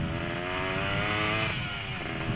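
A two-stroke moped fitted with an aftermarket exhaust revs loudly and close by, its buzzing, raspy engine note holding high, then dipping briefly before climbing again.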